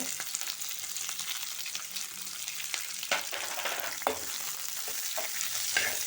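Spring onion greens stir-frying over a high flame for hotel-style chilli chicken, a steady close sizzle with repeated scraping stirs of the spatula and sharper clacks now and then, no voices.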